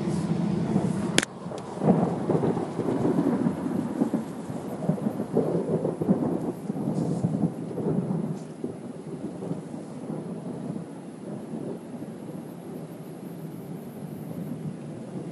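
Thunder from a storm cell near Major's Creek rumbles low and heavy, with a sharp crack early on from an embedded lightning strike, then a long rolling swell that fades away. Faint rain may sit underneath.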